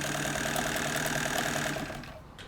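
A 1963 Kenmore 158.904 sewing machine running a straight lock stitch, a steady close mechanical whir with a rapid rhythmic needle patter that slows and fades over the last half second.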